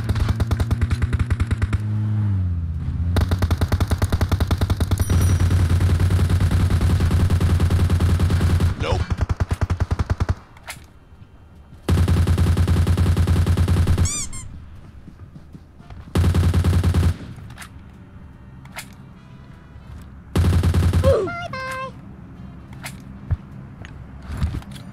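Gunfire from the mobile game PUBG Mobile, loud sustained bursts of rapid automatic shots recurring in several blocks across the stretch, with quieter game ambience and faint effects between them.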